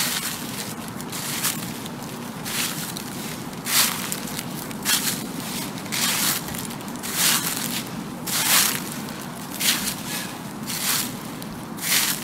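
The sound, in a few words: footsteps crunching fallen leaves on a street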